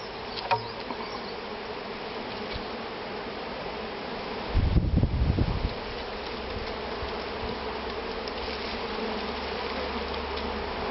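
Honey bee swarm buzzing steadily throughout during a swarm recovery in Loudéac, Brittany, a dense close hum with a brief louder rumble of handling near the middle; no one speaks.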